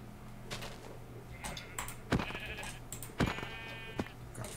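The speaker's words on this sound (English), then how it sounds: "Where's the other white sheep?" Sheep in the Minecraft video game bleat in a few short, wavering calls spaced a second or so apart, moderately clear over a faint steady background hum, with light clicks between them.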